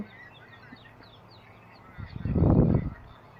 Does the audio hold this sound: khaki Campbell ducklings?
yes